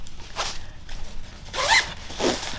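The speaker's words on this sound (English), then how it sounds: "So let's zip these up and see how they look." Zipping up Peak Design packing cubes packed fairly full, with three separate zipper pulls in short bursts; the middle one is loudest and longest. The zipping is close and clear, with no voices.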